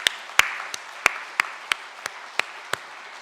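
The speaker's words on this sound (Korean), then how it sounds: "우리 고마운 마음을 담아서 다시 한번 박수로 인사하겠습니다" A church congregation claps for the choir after an Easter service anthem: a steady, rhythmic beat of sharp, evenly spaced claps over a low murmur of scattered hands.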